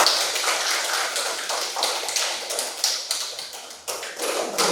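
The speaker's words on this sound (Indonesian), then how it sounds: "Beri aplaus dulu." Classroom applause from students rings out as a dense, continuous patter of hand claps, close and fairly loud, with slight surges and dips over a few seconds.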